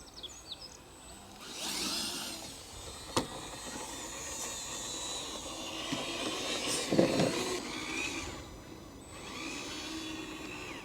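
Electric motor of an Element RC Enduro Trailrunner trail truck on a 3S battery, running flat out with a smooth, steady high whine that swells and eases with throttle, alongside faint mechanical noise.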